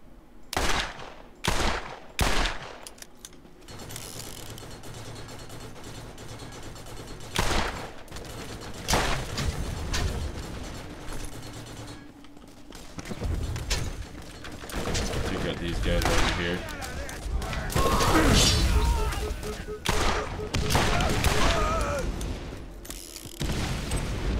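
Enemy rocket and gun fire in the Borderlands video game, a run of sharp bursts and booms at the start, then heavy, dense sustained combat noise with explosions building toward the end.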